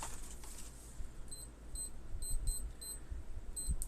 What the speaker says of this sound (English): Let's get that timer ready.